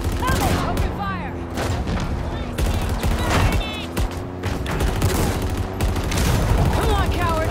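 Gunfire in the video game Halo Infinite: dense, continuous bursts of automatic fire and scattered booms, loud and close, with whistling projectile sounds and voices speaking throughout.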